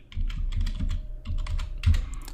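Computer keyboard keys clatter in steady bursts of close typing as a git version command is entered on Windows, with a brief pause before a firmer final keystroke.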